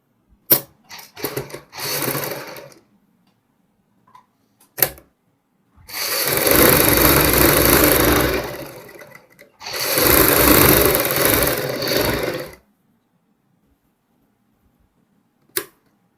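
Sewing machine stitching a kurti sleeve runs in two long, steady bursts of about three seconds each, separated by short pauses, with a few brief handling clicks and shorter runs before and after.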